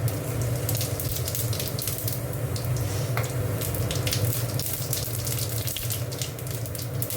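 Cumin seeds tempering in hot oil in a pan for a vegetarian cauliflower-potato curry, giving a steady close hissing sizzle that runs continuously with faint crackles and no talk.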